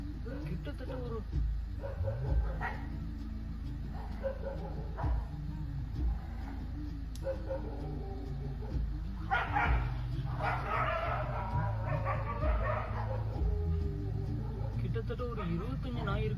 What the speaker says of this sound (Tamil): கிட்டத்தட்ட ஒரு 25 நாய் இருக்கும் பொழுது. ஐயோ, அப்போ எவ்வளோ நாய்.